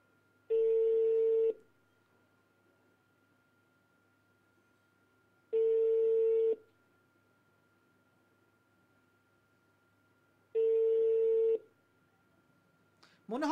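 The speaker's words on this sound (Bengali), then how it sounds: "ফোনটা ঢুকছে, দেখি এবার ফোনটা রিসিভ করে কিনা।" An unanswered phone call rings back through the handset: three evenly spaced, one-second electronic tones about five seconds apart, clear and steady against near silence.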